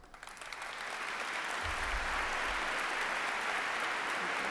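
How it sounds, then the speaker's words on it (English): Audience applause at a preservation conference's opening plenary: a dense, steady wash of many hands clapping that swells within the first half second and holds loud and continuous throughout, with a low rumble partway through. "I ask for approval of the slate by acclamation as indicated by your applause."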